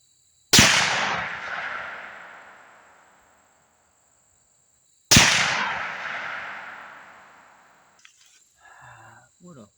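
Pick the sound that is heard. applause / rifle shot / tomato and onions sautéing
rifle shot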